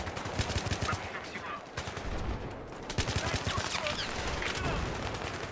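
Dense rapid gunfire in Battlefield 3, loud sustained automatic bursts crackling almost continuously with barely a pause, close and harsh, with other shots and battle noise mixed in.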